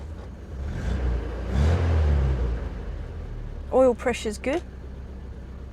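A Rover P6 2000 TC engine idles in a steady low rumble while someone talks over it.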